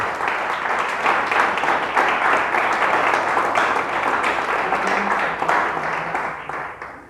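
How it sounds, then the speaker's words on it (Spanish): A church congregation claps together for the Lord during a Spanish-language sermon, dense sustained applause that stays loud throughout before thinning slightly at the close. "Dele fuerte ese aplauso al Señor."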